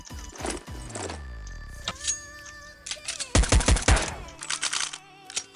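Gunfire from a Counter-Strike 1.6 USP pistol with a custom skin-pack sound: sharp, loud shots and mechanical handling clicks, with a dense burst of rapid reports in the middle and a few scattered shots after it.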